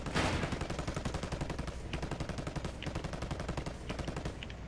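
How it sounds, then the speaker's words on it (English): Rapid automatic gunfire fired at a target, a steady rattling stream of evenly spaced shots that runs unbroken, loud and close, with no voices. "I'm shooting that shit down again"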